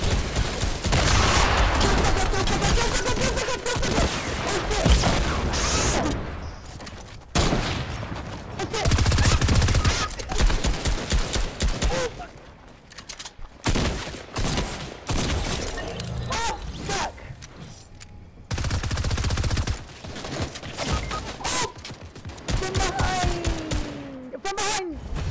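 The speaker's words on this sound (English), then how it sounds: "Oh shit, you got the minigun?" A minigun in Fortnite fires in long, dense rattling bursts separated by short gaps, loud and close, with players talking over the gunfire and game effects.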